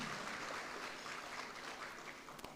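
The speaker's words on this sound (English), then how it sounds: "I think they deserve another round of applause." Applause for the Univen Choir at the University of Venda's 40th anniversary celebration, a faint, even wash of clapping from a hall audience that holds steady throughout.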